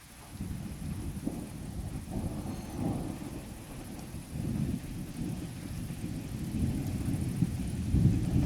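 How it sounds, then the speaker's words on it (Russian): Low thunder rumbles over steady rain during a tropical summer storm on the Black Sea coast at Yuzhny, a downpour approaching with wind buffeting the microphone, continuous and moderately loud throughout. "Каждый день такие тропические грозы."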